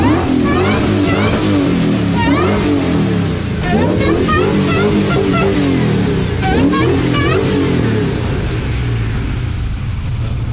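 A race truck engine revs up close, rising and falling in pitch through several throttle blips before settling, loud and alone.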